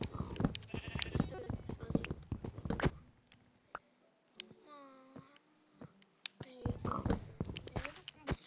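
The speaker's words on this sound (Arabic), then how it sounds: "خروف" A sheep in a video game gives a wavering bleat in a brief lull between stretches of busy talk and game noise.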